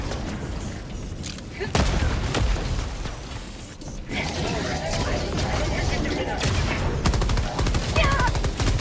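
Helldivers 2 video game battle against automatons: dense, loud gunfire and a grenade blast roar continuously, with booms and rattling bursts layered under a voice calling out.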